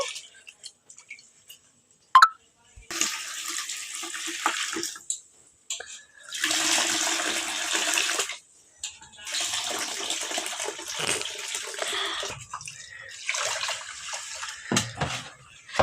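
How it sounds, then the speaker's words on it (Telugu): Rice is being washed in water for jaggery rice, with several separate bursts of sloshing and splashing water, each a few seconds long, between quiet gaps. "బియ్యం బాగా కడుక్కోవాలి రెండు మూడు సార్లు కడిగేస్తా"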